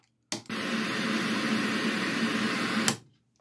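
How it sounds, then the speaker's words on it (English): A steady, broadband hiss from a DIY white noise machine, lightly filtered to soften harshness, switches on abruptly, holds evenly for about two and a half seconds, then cuts off, loud and close, with no voices. "it's a white noise with a little bit of filtering to make it less harsh"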